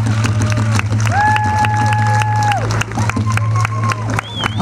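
Festival audience applauding and cheering at an outdoor Indigenous peoples festival in Montreal, a steady crowd wash with a tonal whistle or sung note rising above it, fairly loud and continuous.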